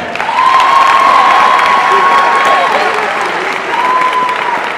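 A school audience applauds and cheers for the school principal. Dense, loud, steady clapping comes with crowd noise and a few high shouts or whoops throughout.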